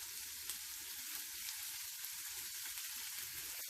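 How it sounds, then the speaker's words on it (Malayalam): Onion, ginger, green chilli, curry leaves and garlic sauté in a pan, giving a soft, continuous sizzle with no talking. "ഇനി ഇത് നല്ലതുപോലെ ഒന്ന് വഴറ്റിയെടുക്കണം"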